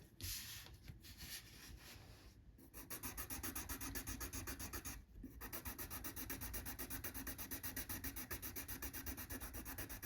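Steady, rapid rhythmic rubbing of a Prismacolor Premier colourless blender pencil on paper, close and soft, with quick back-and-forth scratching strokes and a couple of brief pauses.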